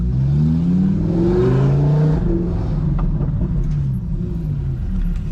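An Audi R8 engine revs and rumbles loudly up close as the car pulls away and drives, the pitch rising then settling.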